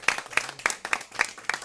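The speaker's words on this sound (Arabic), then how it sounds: "تصفيق ماجد" Applause from an audience at a charity event, six distinct bursts of clapping at a regular rhythm, close and moderately loud, spaced by short gaps.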